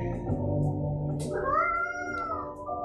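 A cat meows in the game Coffee Talk, one clear rising and falling meow standing out over a steady background hum of game music, loud and close.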